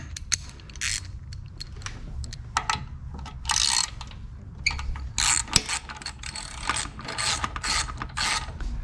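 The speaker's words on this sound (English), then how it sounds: "So taking this anode off here, using a 8mm hex key right here." An 8mm hex key works loose the anode on a Yamaha 225 SHO outboard, giving intermittent ratcheting clicks and metallic scrapes in short bursts, close and moderately loud with no talking.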